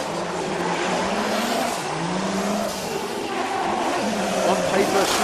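A 2JZ-powered BMW 120 drift car at a Formula Drift Japan qualifying round roars steadily with continuous engine and tire noise and crowd wash, while a commentator talks over it.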